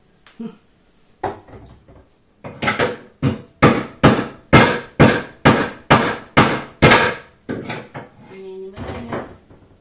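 A steady run of about a dozen heavy, rhythmic thuds as vegetables are pounded, loud and close, with brief pauses at the start and end.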